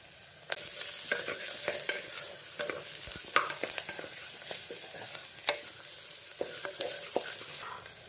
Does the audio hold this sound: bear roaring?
no